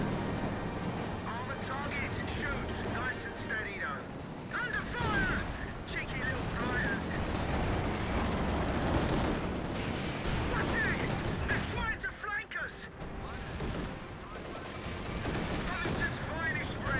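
An artillery barrage and gunfire from the video game Company of Heroes 2 rumble and crackle continuously at moderate loudness, with dense overlapping booms. Voices talk over the battle throughout.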